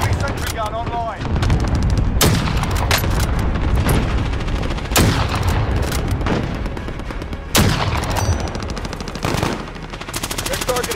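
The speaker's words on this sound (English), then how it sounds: "Allied cluster strike inbound!" Rapid, dense gunfire and heavy booming blasts from a cluster strike in Call of Duty: Modern Warfare, loud and continuous with sharp explosive bursts recurring every couple of seconds, with a voice calling out over the combat.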